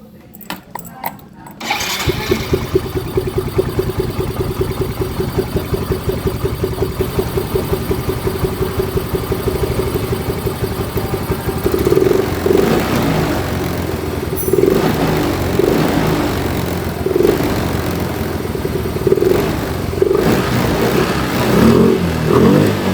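A Yamaha Mio M3 125 scooter-motorcycle engine that struggles to idle runs with a steady chugging rhythm, then revs up in several short bursts, loud and close.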